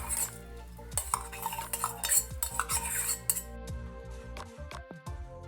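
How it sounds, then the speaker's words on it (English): A utensil stirs dry short grain rice into arroz con dulce ingredients in an Instant Pot pot, giving repeated scraping and clinking strokes, close and fairly loud, with no talking. "We're gonna mix it all together"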